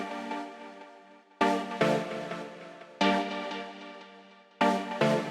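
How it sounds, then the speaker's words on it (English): A dirty, textured dub synth preset built in Serum for groovy trance plays a series of chord stabs in an uneven rhythm, each hit swelling in sharply then decaying, with no voices. "The second dub synth sounds like this."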